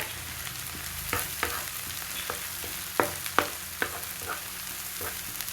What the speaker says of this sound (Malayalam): അത് നല്ലോണം പൊരിഞ്ഞ് കിട്ടണം